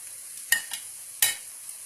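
Spices sprinkled and stirred into a frying masala for Palakkad biryani: two sharp scraping bursts of stirring over a soft, steady sizzle, close by with no talking.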